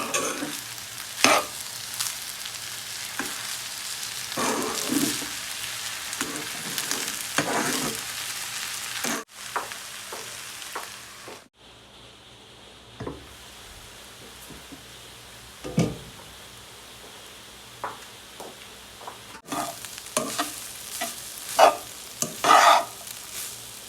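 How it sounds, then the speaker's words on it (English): Lemon rice stirred in a pan as it cooks, repeated scraping strokes of a spatula over a low sizzle, with brief pauses and a quieter stretch midway. "And stir and leave it to cook"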